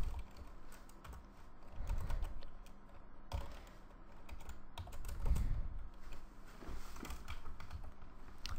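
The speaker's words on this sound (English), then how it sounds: "As soon as my keyboard starts messing up." Keys clatter in quick, uneven bursts of typing on a computer keyboard, close by and fairly quiet, with a few brief pauses.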